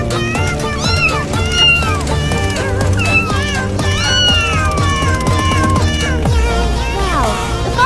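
Animated cartoon cats meow and caterwaul loudly and continuously over a dense music track, with sliding, drawn-out cries, some rising and falling, throughout the scene of a burning house.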